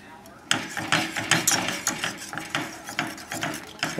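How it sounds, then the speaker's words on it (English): Egg yolks whipped by hand into a hot spinach mixture for a fresh spinach and cheese soufflé: close, rapid scraping strokes in a steady rhythm against the bowl. "And this whipping cools it too."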